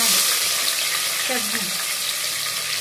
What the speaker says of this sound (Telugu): ఇదిగోండి టమాటాలు వేసి వండుతాను. ఇదిగో ఆయిల్ పోసాను.